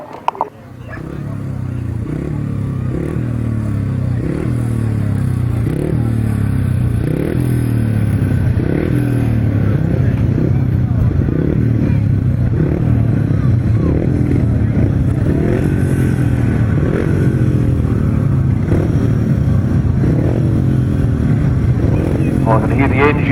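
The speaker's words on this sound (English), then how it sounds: "I can hear the engines revving." Grasstrack racing motorcycles rev their engines steadily at a British Masters qualifier, a loud, continuous pulsing drone from several bikes that goes on without a break.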